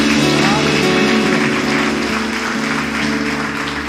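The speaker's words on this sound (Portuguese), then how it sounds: "Você pode aplaudir Jesus?" A church congregation applauds during a Baptist worship service, a steady wash of clapping over sustained music and voices that carries evenly throughout.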